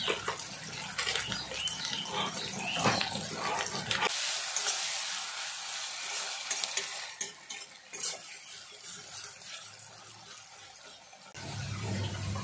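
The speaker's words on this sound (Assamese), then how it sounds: "পিঁয়াজ মোৰ ভজা হৈ গ'ল" Onions frying in a pan for a lemon-leaf rohu fish masala, with steady sizzling broken by scraping stirs and spoon clatter; the sizzle thins briefly midway, then returns louder near the end.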